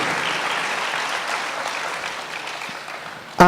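A graduation audience at a high school ceremony gives a sustained round of clapping that slowly tapers off, and a brief louder sound cuts in at the very end.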